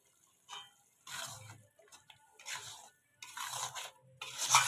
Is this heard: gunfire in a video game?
no